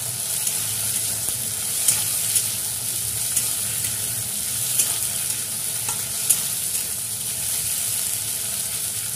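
Green peas, tomatoes and mixed vegetables frying in a pan for an Odia fish-head curry, a dense even sizzle with occasional faint stirring ticks, close and continuous without speech.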